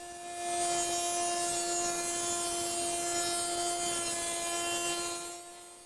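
A power saw cuts slots 10.5 mm deep into the sides of wooden rails for a garden deck chair, giving one steady, faint, continuous whine with a soft start and tail-off.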